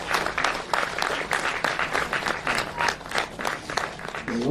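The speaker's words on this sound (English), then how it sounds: "can we have a round of applause for Giri" Steady applause from an audience at a film festival, a crowd clapping in a lively, even rhythm, moderately loud and close, with no talk over it.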